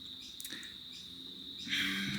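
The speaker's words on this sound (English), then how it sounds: "So all you're gonna hear is cicada the whole time." A continuous high insect drone hums steadily throughout, swelling louder near the end, with no voices.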